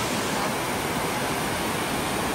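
A waterfall pours in a steady broadband rush of water, close and continuous, with no other sounds over it.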